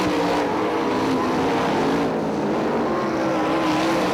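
Sprint cars racing on the dirt oval at Crystal Motor Speedway, a dense, loud, unbroken engine roar with several cars blending together at close range, no commentary audible.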